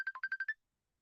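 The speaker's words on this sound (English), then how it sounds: "someone's calling on Facebook Messenger. I know that ringtone." A Facebook Messenger incoming-call ringtone plays as a quick run of about seven bright electronic beeps in a rapid rhythm, then cuts to silence; clear and alone with no talk.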